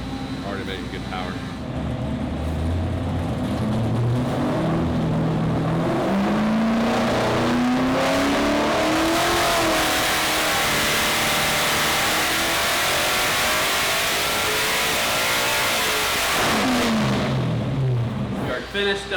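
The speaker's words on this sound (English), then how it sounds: "We are finished up here at LME with the engine dyno." A GMC truck's race engine revs hard on an engine dyno in a shop, a loud, sustained roar rising and falling in pitch as it pulls through the run, with voices faintly under it.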